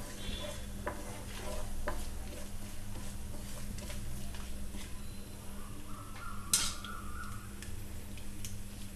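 Whole spices with black pepper splutter and crackle in hot oil for a Hyderabadi mutton dum biryani, a steady close sizzle with scattered pops and one sharp crackle near the end, with no talking.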